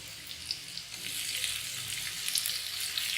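Ginger and garlic paste frying in a pan for a parwal dalna, a steady close sizzle and crackle running throughout with no talking.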